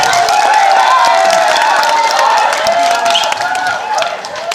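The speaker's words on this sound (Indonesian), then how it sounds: "Marilah kita beri tepuk tangan yang meriah buat para pemuda Kembang Sari." An audience at a school drama performance applauds and cheers, a lively mix of clapping and crowd voices that holds loud and then thins out toward the end.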